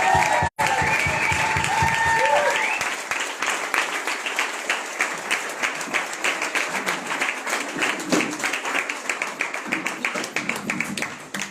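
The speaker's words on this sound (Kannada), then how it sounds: "ದೇವರ ಸೇವಕರಾಗಿರುವಂತ ಪಾಸ್ಟರ್ ಮನೀಶ್ ಅವರನ್ನು ನಾವು ಚಪ್ಪಾಳೆ ಮೂಲಕವಾಗಿ ನೋಡ್ತಾ" A church congregation at a Sunday service applauds to welcome a pastor, with sustained, dense clapping from many hands. It begins under a speaking voice, then carries on alone and steady, close and fairly loud.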